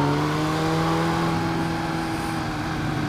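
A motorcycle slows on a rainy road using only its gears instead of the brakes, the engine droning steadily with a sustained tone that gradually shifts, close and continuous throughout.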